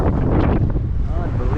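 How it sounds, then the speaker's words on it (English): Strong wind buffets the microphone outside St. Andrew's Presbyterian Church, a loud continuous low roar that surges throughout, with a faint tonal whistle near the end. "Unbelievably windy day today, but it's actually blowing me off my feet."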